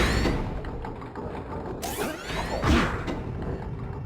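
An elevator mechanism in the video game Jak and Daxter, a grinding mechanical rumble with clanking ratchet-like clicks and two swooshing surges as the platform moves.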